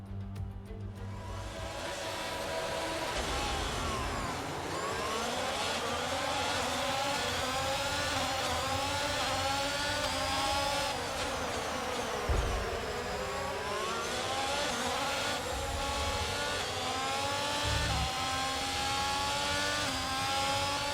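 Formula 1 cars race in the F1 22 video game, engines whining and rising through gears in a sustained, fairly quiet high-pitched drone with shifting pitch sweeps and no talk.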